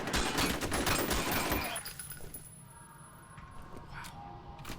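Automatic assault rifle fire in the shooter game F.E.A.R., a dense, loud burst of rapid shots with echoing impacts for nearly two seconds, then fading into quieter ambient rumble and scattered distant effects, with no talking.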